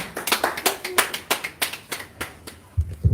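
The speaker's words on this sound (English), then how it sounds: "another round of applause for His Excellency." Applause for a speaker at a Labour Party gathering in Nigeria, heard as a run of sharp, separate claps from a few nearby hands in an uneven rhythm, trailing into a couple of heavier claps at the end.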